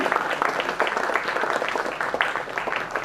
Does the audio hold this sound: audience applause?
yes